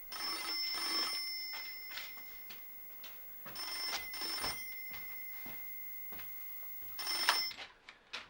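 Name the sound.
telephone ringing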